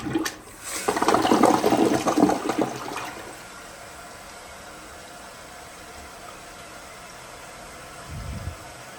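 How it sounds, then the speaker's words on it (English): A hotel toilet at the Hyatt Regency in downtown Dallas flushes with a loud rushing surge of water for about two seconds, then tapers into a quiet refill hiss and faint room hum. "I'll go and flush it."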